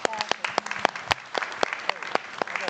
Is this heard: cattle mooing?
no